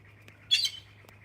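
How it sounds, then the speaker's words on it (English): A single short squawk sounds from a bird at a pheasantry, with faint clicks before and after it against a quiet outdoor background. "The birds will let you know that too, because they start to get more alive, you know."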